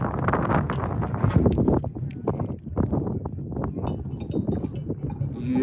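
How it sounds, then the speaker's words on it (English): Gusty wind buffets an outdoor camera microphone, producing rough low rumbling bursts that come and go, mixed with nearby voices and other scattered outdoor sounds. "Hopefully I can get my camera to stay still without all this wind."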